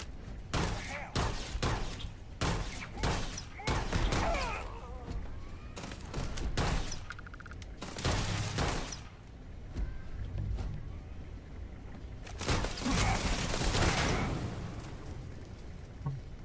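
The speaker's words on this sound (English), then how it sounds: "I love shooting the gas tanks." Rapid gunfire in Starfield, dense bursts of shots and a gas tank explosion, loud and close, with brief pauses and clusters of automatic fire across the span.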